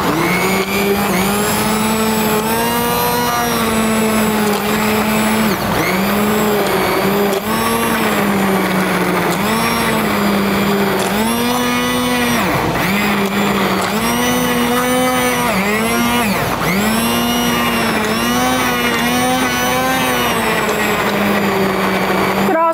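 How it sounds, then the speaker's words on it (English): An immersion blender whirs continuously while pureeing a potato vegetable soup, a loud, close motor whine whose pitch dips and recovers as the blade meets the chunks, running steadily for over twenty seconds. "I'm going to use the immersion blender in it to puree it"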